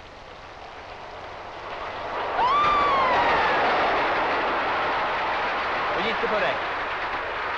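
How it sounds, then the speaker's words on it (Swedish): A train passes by outdoors in a 1946 Swedish film, its rumble swelling loud and near with a whistle-like tone before slowly fading. People talk over it. "Tåget!"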